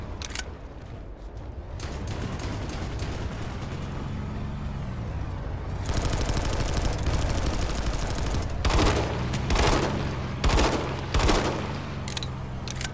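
Heavy gunfire in the online shooter Planetside 2, with sustained machine-gun bursts and sharp shot clusters over a constant vehicle engine drone, loud and close throughout.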